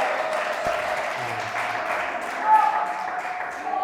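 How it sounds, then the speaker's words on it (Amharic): A church congregation claps loudly in praise of Jesus' name during a sermon. Sustained applause fills the room, with voices mixed in underneath. "ከፍ ያለ ጭብጨባ አምጡልኝ"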